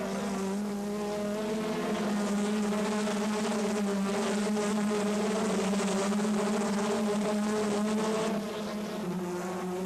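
Race cars in the 1984 Peugeot Samba trophy circuit race drone past in a loud, continuous high-revving engine buzz that holds steady for most of the stretch and eases slightly near the end.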